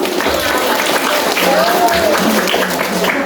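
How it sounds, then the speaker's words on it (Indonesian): Students clapping together at an anti-drug awareness session held at a school, a dense burst of applause with voices heard over it. "Tepuk tangan semuanya."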